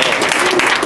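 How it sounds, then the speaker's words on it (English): Brief burst of crowd applause at a political campaign rally in Buffalo, New York, loud and dense clapping from many people, with some voices mixed in. "Can I get a round of applause for him"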